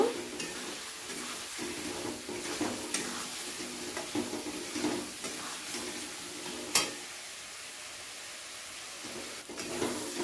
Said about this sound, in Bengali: সামান্য জল দিয়ে আমি এটাকে এবার ভালো করে কষিয়ে নেব